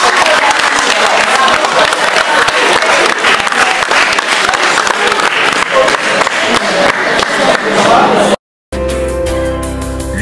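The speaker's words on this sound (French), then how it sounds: "je vous demande d'applaudir pour vous-même" An audience applauds loudly, with dense sustained clapping and crowd noise for about eight seconds, then a sudden cut to silence and a shift to a different, tonal sound.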